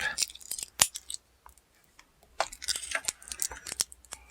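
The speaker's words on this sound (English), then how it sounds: "I need to find my knife again real quick here because it's all taped up" A knife slicing through tape on the packaging of a sixth-scale action figure, heard as quick close rasping cuts and crinkly plastic handling in two bursts separated by a brief pause.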